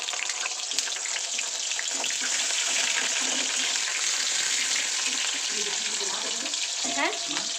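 Vegetable curry sizzles steadily in a pan, its crackling fry joined by stirring scrapes and a few clinks of the utensil toward the end.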